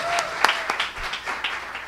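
Graduation ceremony audience clapping, a short burst of scattered hand claps in a hall with a voice briefly audible over it.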